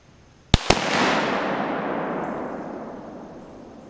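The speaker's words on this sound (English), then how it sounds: "The gun made this weird like there was a gap in between the spark and the actual let off of the bullet." A muzzle loader rifle fires with a sharp crack followed a split second later by a second loud report, then a long rumbling echo that slowly fades over several seconds.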